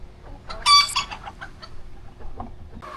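A chicken gives a few short, fairly quiet clucks, one sharper call standing out early, with soft rustling in between.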